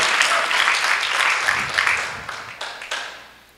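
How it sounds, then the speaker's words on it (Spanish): A church congregation breaks into sustained applause, dense and steady before gradually thinning out toward the end, with a few scattered claps lingering. "Un aplauso al Señor."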